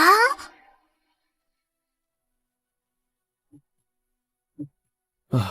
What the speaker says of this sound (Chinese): 还好有心跳，算是活人。